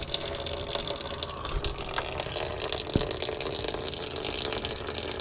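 Coolant gushes steadily out of a 2015-2017 Ford F150 5.0 Coyote radiator after the overflow is removed, a continuous close splashing pour of liquid with no pauses.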